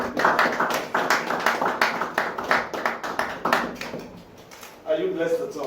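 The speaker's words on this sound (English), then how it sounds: "Please, the round of applause for." Audience applause at a business event, a burst of dense clapping that fades out while a voice talks over it.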